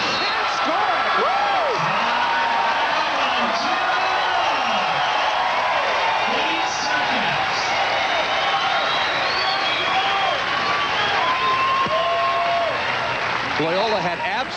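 A crowd at a 1994 AVP Milwaukee Open beach volleyball quarterfinal sends up sustained loud cheering and applause with whoops, while a commentator talks over it throughout.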